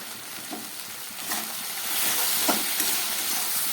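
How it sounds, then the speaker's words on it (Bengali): Okra sautéing with salt and turmeric in a pan, a steady close sizzle and hiss with a few soft stirring scrapes, rising slightly louder partway through, no voices. "নুন হলুদ দিয়ে আরও দু মিনিটের মতো আমি ঢ্যাঁড়সটাকে খুব ভালো করে কষিয়ে নিলাম"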